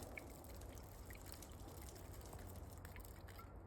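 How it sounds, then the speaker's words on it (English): Water is poured onto campfire embers, a quiet trickling and dribbling with scattered drips over a low rumble, faint and close, with no voices. "So basically you just dump water on her, you know, dump a little bit"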